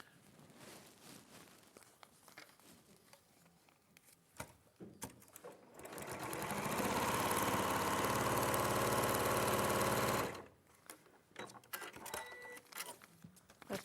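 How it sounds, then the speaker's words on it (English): A sewing machine joining quilt rows runs in one steady burst of about four seconds, a close whirring stitch hum that starts and stops abruptly amid faint handling clicks and quiet room noise. "there's all my rows now sewn together"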